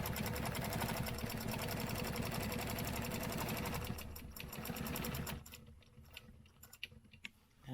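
A sewing machine stitches along a stencil line in a rapid, loud, even run for about five seconds, then stops, leaving softer clicks and handling noises close by.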